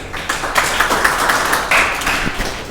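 An audience at a Hindi legal talk on maintenance, domestic violence and dowry laws applauds to welcome a former president, a busy, fairly loud patter of many hands clapping with a few sharper accents.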